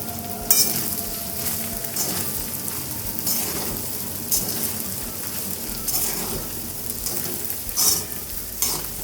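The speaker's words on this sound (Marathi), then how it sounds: "याच्यामध्ये शाबणं घालूया मिक्स करून घेऊया" Sabudana stirred and fried in a pan for khichdi, a steady close sizzle with repeated scraping strokes of the spoon every second or so, no voices.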